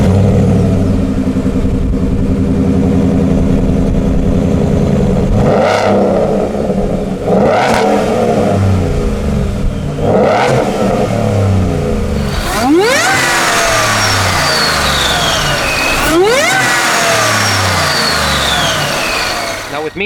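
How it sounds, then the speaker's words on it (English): A 750-horsepower Shelby F150 truck fitted with a Borla performance exhaust idles loudly with a deep burble, then revs sharply several times, with rising and falling throttle blips close by. "They just call it a Borla performance exhaust, and we're going to take a listen to it here."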